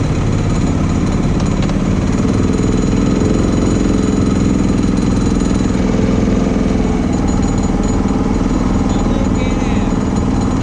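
Honda side-by-side engine in first gear towing a broken Can-Am, a loud, unbroken chugging rattle close by, steady throughout with faint voices beneath it.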